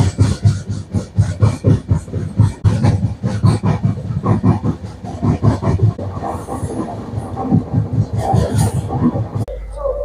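A passenger train running on the line from Asansol toward Chittaranjan, a steady loud rumble with rhythmic clickety-clack of wheels over rail joints, heard close from on board throughout.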